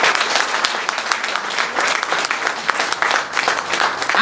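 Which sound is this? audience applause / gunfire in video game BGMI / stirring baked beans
audience applause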